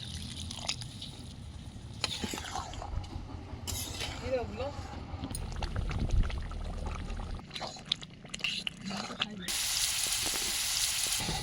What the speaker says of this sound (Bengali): দেশি ঘি দিয়ে পেঁয়াজের বেরেস্তাটা করে নিলাম